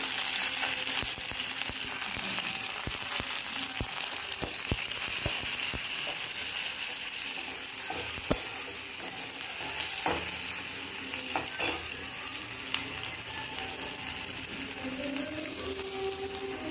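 Garlic and dried red chillies frying in hot oil, a dense continuous sizzle held at close range, with frequent scraping and clicking stirring strokes throughout and no voices.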